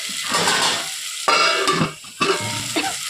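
Four medium chopped tomatoes are stirred in a hot sizzling pan for tomato rice, a spoon scraping in three close bursts with steady frying hiss underneath and no talking.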